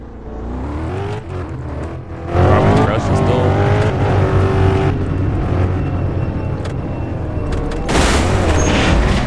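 A car in a Roblox city hood game roars and revs loudly, with booming impacts and tire squeals, while a person talks over the engine noise throughout.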